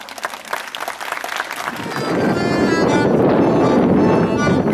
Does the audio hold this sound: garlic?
no